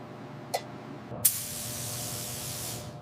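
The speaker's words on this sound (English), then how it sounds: "Loading up the heavy build epoxy primer to stop the rust forever." Heavy build epoxy primer sprayed onto the bare steel body of a 90-year-old car, with two short clicks or taps, then a sustained hiss that starts sharply and fades at the end, close.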